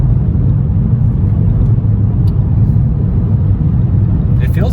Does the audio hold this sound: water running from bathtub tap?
no